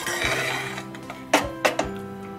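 Cooked rice and sweet corn being stirred in a metal pan, with a few distinct clinks and knocks of the spoon against the pan standing out after a soft scraping start.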